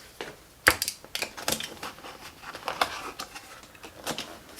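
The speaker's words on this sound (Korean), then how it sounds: "일단 박스를 한번 열어볼게요." Cardboard packaging for a Bosch GCB 18V-127 cordless band saw is opened with a series of sharp clicks, snaps and scraping rustles at close range, irregular and moderately quiet, with no talking.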